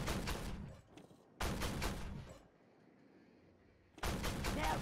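Gunfire from tank cannons and weapons in the Armored Warfare video game: loud bursts of rumbling fire, broken by quieter gaps, with another heavy burst at the end.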